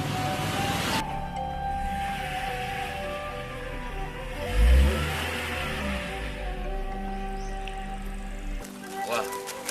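A smooth-running car goes by on a village road, its steady engine and tire rumble holding close for several seconds with a brief low thump midway, while people talk over it.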